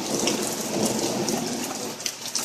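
Heavy, steady downpour of pouring rain outdoors, a dense continuous hiss with scattered splashy drops, close and loud with no talk over it.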